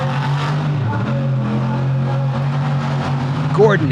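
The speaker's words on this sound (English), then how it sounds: "back over the double, and slides to a stop and kills the power on the truck" A monster truck at an arena freestyle event in Charlotte, North Carolina, sends out a loud, steady, close engine drone that surges briefly near the end, with an announcer's voice running over it.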